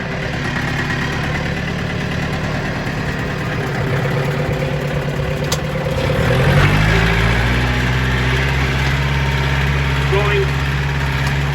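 A tractor engine idles steadily with the PTO engaged while spreading organic fertilizer on a sand-based athletic turf field, a continuous low rumble that swells slightly midway, with a voice speaking briefly over it.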